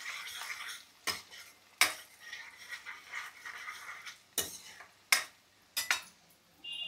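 Mustard seeds and urad dal crackle in a hot pan, with a steady sizzle broken by several sharp utensil clicks and scrapes against the metal, close and clear with no voices.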